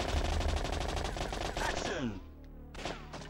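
Machine gun fire from a Namco GunCon light-gun shooting game, a rapid burst of repeated shots followed by a falling tone and a short closing blast, with game music underneath.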